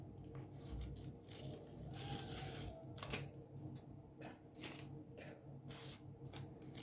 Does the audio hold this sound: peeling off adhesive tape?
yes